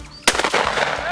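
A single sharp shotgun blast cracks out during an outdoor quail hunt, followed by its brief ringing decay and voices calling out right after.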